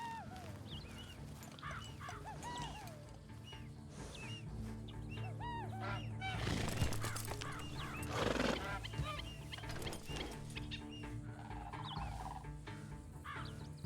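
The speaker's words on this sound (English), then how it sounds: "Did you hear that bird?" A bird calls repeatedly in a western roleplay video game, its short chirps recurring against a busy background that also holds horse whinnies, hoof clip-clop and fowl sounds, at moderate loudness.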